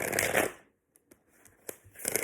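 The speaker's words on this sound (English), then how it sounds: "One more shuffle." A tarot card deck being shuffled up close, with a dense riffling burst, a quieter pause with a few soft clicks, then another riffle, all without talk.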